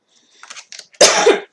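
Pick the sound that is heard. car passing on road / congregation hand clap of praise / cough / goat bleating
cough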